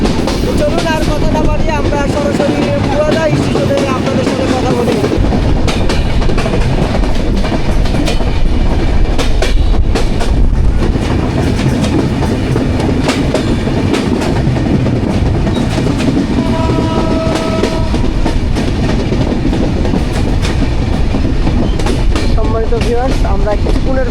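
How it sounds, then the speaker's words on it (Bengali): The Kapotaksha Express pulls into platform one at Poradaha Junction, a sustained heavy rumble with rhythmic clickety-clack of wheels over rail joints, close and loud, while a voice talks over it intermittently. "আমাদের ট্রেন কিন্তু এখন পাকা হয়ে গেছে পাকা হয়ে এক নম্বর প্ল্যাটফর্মের ভিতরে কিন্তু প্রবেশ করতেছে"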